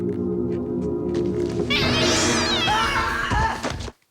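A cat meows loudly in a long, wavering caterwaul over a steady low hum, ending abruptly.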